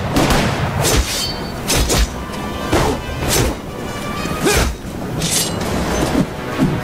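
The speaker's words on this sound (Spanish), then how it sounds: "Listo, explosión." Explosions in the mobile game Marvel: Strike Force during a Deadpool event battle: a string of about half a dozen sharp, booming crashes land roughly every second over a continuous bed of battle effects.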